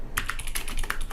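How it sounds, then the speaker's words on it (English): Typing on a computer keyboard, rapid irregular key clicks close and clear with no talk over them. "So I could instead type in, this is some more text."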